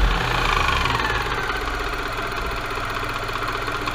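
Supercharged Suzuki Swift engine running on a dynamometer with the throttle released, giving a steady, loud mechanical hum and low rumble that holds evenly throughout with no voices.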